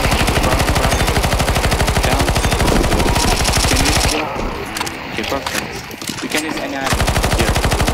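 Rapid automatic gunfire fires nonstop at a boss in a CS2 Zombie Escape match, loud and close, then breaks into scattered bursts and shots beneath a player's speech in the second half.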